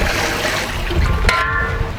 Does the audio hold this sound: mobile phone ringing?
no